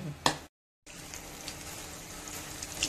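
Pakoda batter dropped into hot oil in a home kitchen, giving a steady soft sizzle and crackle that continues evenly after a brief gap, faint and close with no talk.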